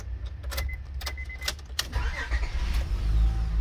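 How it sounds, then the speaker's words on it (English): Ignition cranking and catching on a 2001 Honda Odyssey LX minivan, with a brief jingle of keys up front, then a steady low engine rumble settling in; close and moderately loud, no talking. "So let me crank the car and show what it do."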